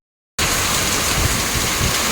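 Heavy typhoon rain from Super Typhoon Kristine in Taal, Batangas, a dense, steady roaring downpour that starts abruptly after a moment of silence and stays loud and close throughout.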